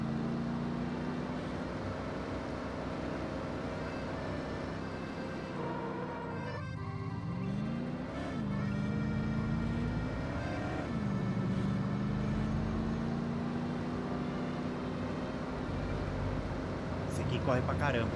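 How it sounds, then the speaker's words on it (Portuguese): Car engine driving in The Godfather video game, a steady low engine hum that rises and falls with gear changes and acceleration, running continuously beneath someone talking. "Ah, com esse carro aqui eu chego num tapa lá."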